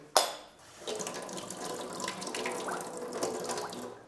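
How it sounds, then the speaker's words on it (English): Coffee streaming from a coffee machine into a cup and bubbling, a steady close liquid pour that follows a brief click and runs on evenly without any speech. "now you guys can see कि उसमें से coffee आ रही है. वो brim तक fill होगा"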